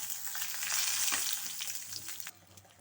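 Dried red chilli, urad dal and chana dal frying in a pan for chutney, a close, steady crackling sizzle that softens toward the end, with no voices.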